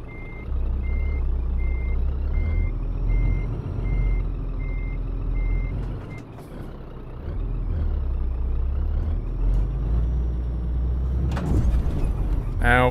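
In a trucking sim game, a truck's reversing alarm beeps in a steady repeating pattern over a low diesel engine rumble, then stops; a hiss of air brakes and brief sounds follow near the end.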